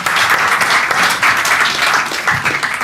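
Church congregation applauding, a steady, loud wash of many hands clapping together, with no voices standing out.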